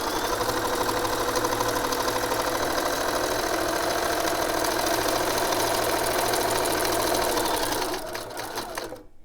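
A sewing machine runs steadily for about eight seconds, back stitching and then continuing a seam while assembling fabric quiet book pages, before winding down near the end.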